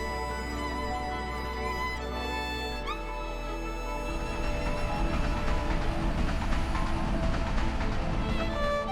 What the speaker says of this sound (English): Today, Grindelwald is a lively town with shops, hotels, and the sound of trains.